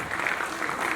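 An event audience applauds a hostess walking onto the stage, a dense, steady wash of clapping that fills the whole second at moderate loudness.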